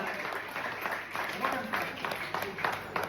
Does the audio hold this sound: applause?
yes